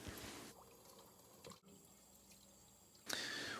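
Raw chicken is rinsed under cold running water at a sink, a faint steady trickle and splash that stops briefly in the middle and swells louder near the end.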